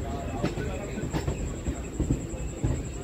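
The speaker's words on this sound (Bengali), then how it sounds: "রাইট টাইমেই বারাসাত থেকে ছেড়ে দিল ট্রেন।" A 12-coach local train pulls out of Barasat station with a steady, loud rumble and a few faint clanks, heard from on board.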